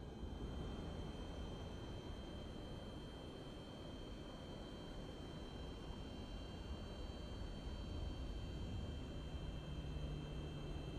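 Steady single-engine drone of a Cessna 172 in Microsoft Flight Simulator 2024, a constant broadband propeller-engine roar with faint high whine, unchanging and alone for the whole span.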